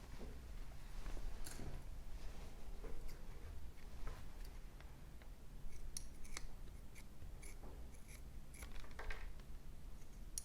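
Scissors cut through a thermoplastic wrist-hand orthosis in a steady run of close, crisp snips and rustles with no talking.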